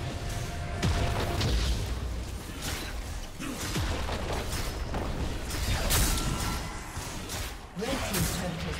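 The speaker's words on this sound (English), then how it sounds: "Red Team's turret has been destroyed." A turret being destroyed in League of Legends, with crumbling booms, creaks and whooshes over dense battle effects and game music, loud and continuous with an announcer voice mixed in.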